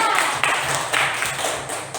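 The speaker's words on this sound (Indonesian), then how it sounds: "Tepuk tangan dulu untuk kelompok Christian" Classroom students clap for a presenting group in a school lesson, a brief scattered patter of hands with some taps and a few voices mixed in.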